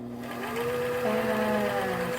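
A sewing machine runs steadily at close range, its motor whirring with a rapid mechanical stitching rhythm and a slight pitch rise midway, no voices over it.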